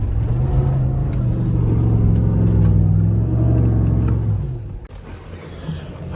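A Chevy Silverado FOX Factory truck roars steadily up close as its wheels spin for traction in tall grass on a farm, with the engine holding high revs before dropping off near the end.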